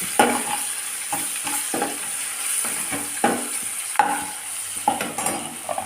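Fenugreek leaves frying in a hot pan, a constant sizzle punctuated by repeated scraping stirs of a spatula at an uneven rhythm.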